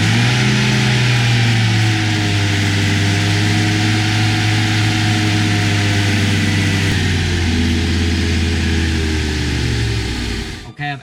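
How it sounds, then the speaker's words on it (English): A car engine idling steadily while Seafoam is fed in through a vacuum line, a loud, close, even hum holding for about ten seconds before cutting off abruptly. "now I'm having to keep the car running"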